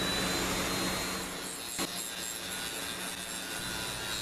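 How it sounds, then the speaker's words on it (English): A Dremel rotary tool fitted with a sanding drum grinds a brass fitting on a knife made from an old saw blade, a continuous high whine with gritty rasping that dips briefly midway, close and alone. "I'm using a Dremel here with a sanding drum"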